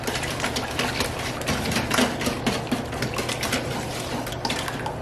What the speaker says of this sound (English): if you got enough arm power, just whisk